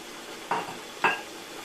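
Spices fried and stirred with mashed tomatoes in a chicken karahi, two short scraping stirs in the pan over a quiet background, no talking.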